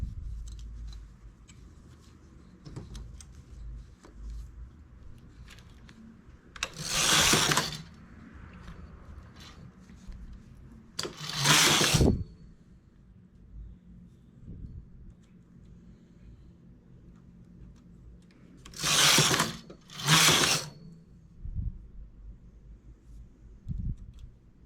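A domestic knitting machine's carriage sweeps across the needle bed in four short, loud rasping passes while a vertical stripe is knitted, with quiet handling noises between passes.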